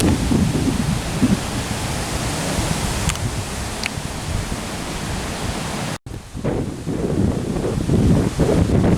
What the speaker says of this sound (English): Storm rolling in.